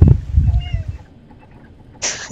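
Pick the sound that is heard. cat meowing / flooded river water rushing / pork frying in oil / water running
cat meowing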